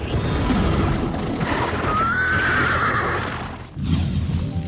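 A horse lets out a loud, drawn-out neigh rising over a rough, noisy background, lasting a couple of seconds before it breaks off, followed by more clattering commotion.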